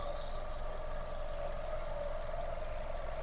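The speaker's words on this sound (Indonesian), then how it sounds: "suara mesinnya Kak masih halus" A steady, smooth engine idling nearby in a 2014 Nissan X-Trail T32 with CVT, a constant low hum with a faint tonal whine and no other sounds.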